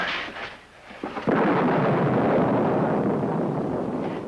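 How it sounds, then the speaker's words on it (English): Thunder rolls in as a storm approaches, a heavy rumble that swells suddenly and holds loud and broad for several seconds before slowly easing. "wasn't that thunder?"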